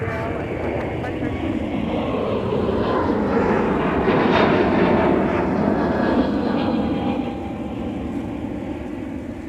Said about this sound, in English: It was Delta 2327 going to the City of Angels today at LAX.